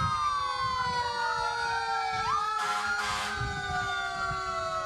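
An emergency vehicle siren at a town fair parade, loud and close, its wailing tone sliding up and down continuously with a burst of horn or noise partway through.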